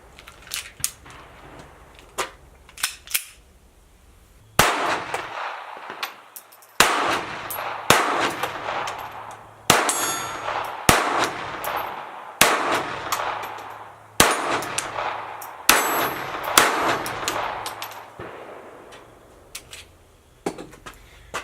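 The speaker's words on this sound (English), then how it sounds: "today I'm going to check out the Ruger SR22, a little semi-automatic 22 double action pistol" A Ruger SR22 .22 semi-automatic double-action pistol fires at steel targets outdoors, each sharp crack followed by a metallic ping. Shots come in uneven bursts across roughly ten rounds, loud and close, with no speech.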